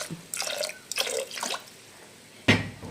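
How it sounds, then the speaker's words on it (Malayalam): Water splashes and trickles into a cooking pot of lentils in a few short bursts, with a brief louder gush near the end, quiet and close. "ഇനി ഇതാ വെള്ളം ഒഴിക്കുക പരിപ്പ് വേവിക്കുക"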